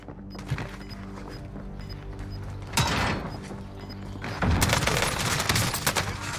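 Video game gunfire from an EM2 assault rifle or OTs9 submachine gun, heard as bursts and impacts over a busy battle bed, with louder clusters of shots near the middle and end.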